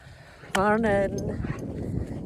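Dogs whimper and yip in a brief, close burst of high whines before an early morning walk, then settle into quieter rustling and low background noise.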